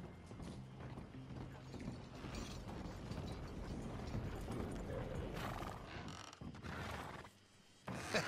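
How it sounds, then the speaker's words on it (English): Horse hooves clip-clopping in Red Dead Redemption 2, a quick run of hoofbeats mixed with creaking tack and mechanical clatter, fairly close, with a brief dip before the sounds resume. "the horse is like a swift one"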